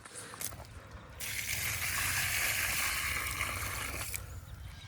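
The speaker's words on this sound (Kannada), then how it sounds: "ಗಿಡಕ್ಕಂತೂ ಫುಲ್ ನೀರು ಬಿಟ್ಟಿನ್ರಿ" Water pours from a flowing supply onto farm plants such as coconut and banana, a soft trickle swelling after a second into a steady, fuller gush that stays close and continuous, then eases slightly near the end.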